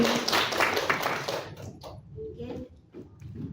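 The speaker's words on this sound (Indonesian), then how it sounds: "Tepuk tangannya Bapak Ibu." Audience of teachers clapping at a positive-discipline workshop session in Denpasar, a dense burst of claps that fades after a couple of seconds, followed by scattered voices and light room noise.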